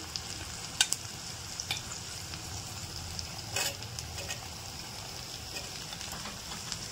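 Potatoes and eggplant sizzle steadily in a hot pan while being stirred, with occasional scraping clicks of the spoon against the pan, close and continuous.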